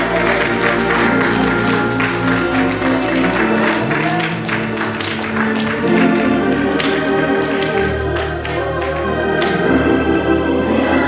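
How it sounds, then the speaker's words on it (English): A church congregation claps in praise during a Sunday sermon, with dense, loud sustained clapping mixed with crowd noise and musical accompaniment underneath. "Give God a hand clap of praise today."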